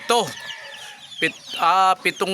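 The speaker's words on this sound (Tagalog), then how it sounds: "Tapos ito po yung mga babaeng sisiw." Chickens and young chicks in a coop give close, repeated bursts of clucking and high peeping calls, with short pauses between the louder calls.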